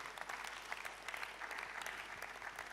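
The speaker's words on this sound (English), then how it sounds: "A round of applause." Audience applause for David Ofosu-Dorte at an evening gathering, a steady dense wash of many hands clapping at moderate distance, continuous for the short stretch with no pauses.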